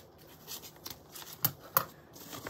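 Scissors cut floral material for a craft display, quiet snips and rustling with a few sharper clicks close by.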